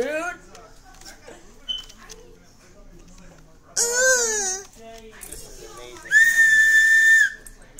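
During an Omegle video chat, a shrill whistle is blown twice: first a short, wavering blast, then a long, steady tone. Voices talk casually in between.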